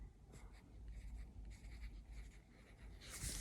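A pen scratches across paper as someone handwrites a word, soft close strokes in short bursts with brief pauses between them, very quiet and with no talking.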